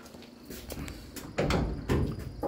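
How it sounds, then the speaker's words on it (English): Clunks, scrapes and thuds of a custom Dodge van's door being worked open during bodywork, several irregular close knocks and rattles over a quiet background, no talking. "So open the door again."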